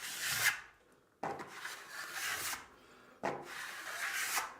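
A Théard Squaliss smoothing blade scrapes across fine-grade smoothing filler in three long, steady rasping strokes, close and clear with brief pauses between passes.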